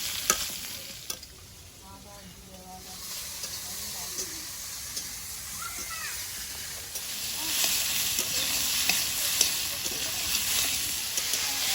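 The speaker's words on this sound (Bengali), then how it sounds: "ঝিঙের সঙ্গে আলুটা আর একটু ভেজে নেব" Ridge gourd and potato pieces fry with turmeric in a pan, a broad steady sizzle with occasional stirring scrapes, growing louder and hissier in the second half; no talking.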